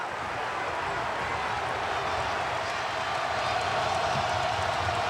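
Basketball arena crowd at a college game between North Carolina and NC State roaring steadily and loudly, a dense wash of cheering that swells slightly toward the end.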